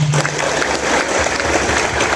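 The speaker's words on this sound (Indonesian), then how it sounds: "Tepuk tangan untuk beliau." Audience applause for a regent during a visit to a prison, a steady, loud wash of clapping filling the whole moment with no speech over it.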